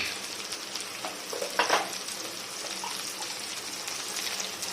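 Ivy gourd fries in a pan with salt, a soft, steady sizzle running throughout with a brief louder scrape or stir near the middle, fairly faint and with no voices.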